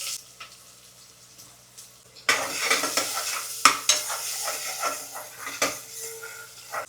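Chopped onion sizzles in a hot pan beside whole spices for chicken pulao, starting abruptly after a quiet moment, with loud steady frying and scraping stirs plus occasional clinks of a spoon on the pan.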